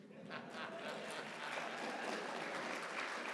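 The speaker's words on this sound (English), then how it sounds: "Not everybody is clapping with that statement" Brief clapping from an audience at an awards ceremony and breakfast, a soft, steady patter of hands that sounds fairly distant and continues evenly for a few seconds.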